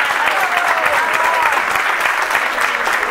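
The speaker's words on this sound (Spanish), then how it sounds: "Un aplauso para ustedes y para Mario." Continuous, fairly loud applause from a crowd at a campaign launch event for a city council candidate, many hands clapping in an even, sustained roar.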